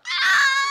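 A voice imitating a squealing clothes dryer that screeches when it starts and stops: one short, high, sustained wailing squeal, close and loud, cutting in sharply and holding steady.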